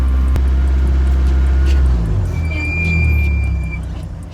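A race car at the Les Andelys hill climb, its engine a loud, close, continuous roar that swells and shifts pitch as it passes, with a faint higher whine briefly above it.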